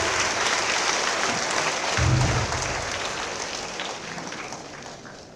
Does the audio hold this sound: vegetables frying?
no